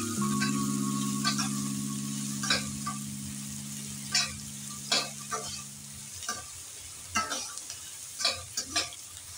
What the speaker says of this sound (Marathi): हलकासा सोनेरी रंग येईपर्यंत आपण हे परतून घ्यायचा आहे हा कांदा।